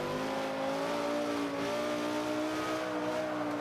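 A 2005 Honda NSX engine in Forza 5 revving hard at high, steady pitch through the whole stretch, loud and continuous, with a brief dip mid-way as a gear shifts.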